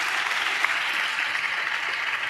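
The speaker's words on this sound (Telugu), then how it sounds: "చప్పట్లు కొడితే యేసయ్యకు స్తోత్రాలు చెప్దాం" A church congregation claps in praise of Jesus, a dense, steady wash of applause that holds evenly for the whole stretch with no talking.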